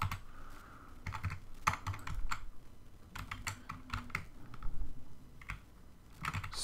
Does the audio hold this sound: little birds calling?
no